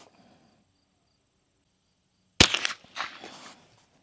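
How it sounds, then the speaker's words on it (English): Single sharp gunshot from a Bear Creek BC-201 firing CCI Mini Mag 36-grain hollow point varmint rounds, a loud crack after a quiet stretch followed by a brief ringing tail and faint outdoor rustle. "Now we're going to shoot at the top right this time."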